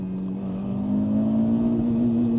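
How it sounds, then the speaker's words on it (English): Engine of a Cupra Formentor VZ5 with a five-cylinder motor, revving up to the rev limiter: a steady, close, rising drone that climbs over roughly two seconds and holds at a high, even pitch. "Let's see if it has a limiter."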